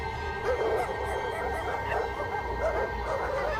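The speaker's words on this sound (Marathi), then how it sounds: "दूर कुत्रे भुंकण्याचा आवाज येत होता." Dogs barking and yipping at a distance in the night, a steady murmur of faint barks and whimpers running through the whole stretch over a low background hum, suited to a Marathi horror story.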